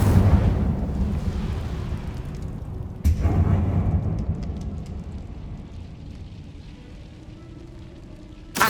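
A fiery Incendio spell blast from the Hogwarts Legacy video game: a loud, roaring broadband rumble with a sharp renewed burst midway that then gradually dies down, with no talking.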